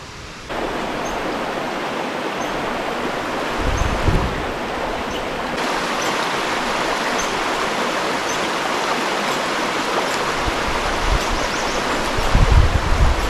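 A river rushes steadily along a hiking trail at a crossing in Pictured Rocks National Lakeshore on the North Country Trail, a loud, continuous broadband wash of flowing water close by, with no talk.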